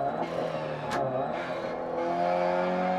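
A rally car's engine howls at nearly full throttle in the Dirt Rally racing game, a sustained, rising roar with shifting pitch and a brief sharp squeal, continuous throughout.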